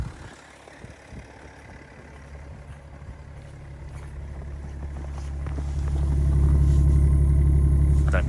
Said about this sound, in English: These engines are so nicely balanced, whisper smooth and quiet.